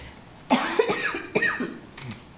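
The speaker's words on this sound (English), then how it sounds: "I'm going to cough, sorry." A short run of close coughs, two or three harsh bursts in quick succession with no talking.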